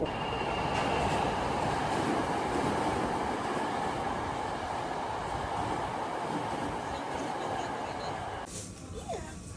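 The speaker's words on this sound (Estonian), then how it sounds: "Rong tuleb." A train rolls past nearby on a railway in Japan, a loud and steady rumble of wheels and cars that holds for several seconds before easing off near the end.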